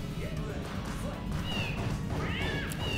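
A cat fighter character in the PS2 fighting game Bloody Roar 4 lets out a few rising meows over a busy bed of game noise, impact sounds and crowd-like din, moderately loud and close.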